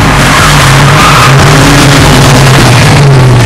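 The Knight Rider KITT car engine revs hard and loud, a continuous saturated roar with a sustained droning pitch that wavers slightly across the few seconds, with no speech over it.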